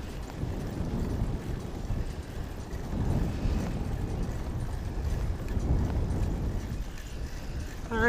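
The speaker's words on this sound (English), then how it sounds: "Just so happens to be windy from the east, so I'm sure you'll be hearing it." Wind buffeting the microphone while riding a bicycle east on trails into an easterly wind, a continuous low rushing roar that surges and fades in gusts, with no other sound standing out.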